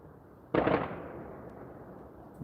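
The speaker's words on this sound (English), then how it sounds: "Maybe you'll get to actually see some fireworks." A single firework bursts with a sudden loud boom and then fades into a long rumbling decay. It is set outdoors at night on Memorial Day weekend, and no one speaks.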